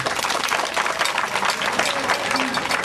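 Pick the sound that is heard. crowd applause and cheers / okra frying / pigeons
crowd applause and cheers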